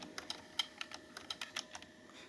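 Quiet, close computer keyboard typing while entering HTML code, a dozen or so crisp key clicks at an uneven pace, with no talking.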